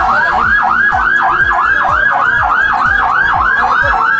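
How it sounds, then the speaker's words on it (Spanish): Ambulance sirens wail on the highway at kilometre 41 between Sonsonate and San Salvador after a bus crash, a loud, close, steady up-and-down sweep repeating about every half second, with traffic rumble beneath and no talk. "Las ambulancias sonaban en el kilómetro 41 de la carretera que de Sonsonate conduce a San Salvador"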